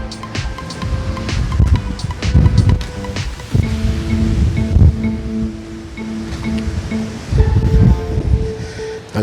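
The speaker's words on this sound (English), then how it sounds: "We've got the lovely sight of the waves breaking over the rocks there." Waves break over rocks on the seafront promenade at Costa Teguise, heard as a loud, continuous surging rush with heavy low rumble and wind buffeting, close by and without talk.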